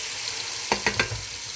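Onions and tomatoes frying in a pan give a soft, steady sizzle, with three quick sharp clicks or stirs in the middle, close and fairly quiet.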